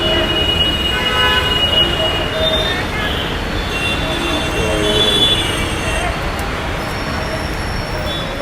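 Hyderabad metro train at Uppal, heard as a loud, continuous rumble with wheel and rail squeal running the whole time, mixed with traffic noise from the street below.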